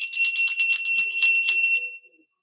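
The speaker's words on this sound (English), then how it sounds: "We'll ring the bell here and we will go ahead and get started." A small bell is rung several times in quick succession to open a tarot reading. It makes bright, high, clear chimes close by that ring on and then fade to silence, with no voices.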